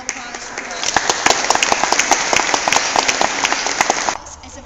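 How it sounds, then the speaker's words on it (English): An audience at a speech on transgender rights bursts into a loud round of applause, dense clapping that holds steady for about three seconds and then cuts off abruptly. "So would you join me in a round of applause for"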